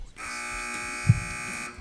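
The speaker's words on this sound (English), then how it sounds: "wait for the buzzer, please" A game show buzzer at a high school quiz match drones steadily at a loud, even level for nearly two seconds, with a brief low thump partway through.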